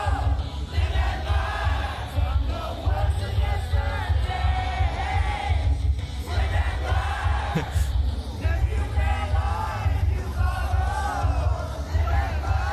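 A Sonic Expo audience keeps up a steady roar of cheers and shouts beneath loud pounding music, crowd noise continuous and close throughout.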